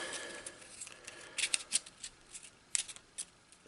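Faint riffling and crisp flicks as a deck of Eldritch Horror cards is shuffled and cut on a tabletop, soft and close with a few sharper snaps in the middle.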